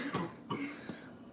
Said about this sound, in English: So that's why he's coughing.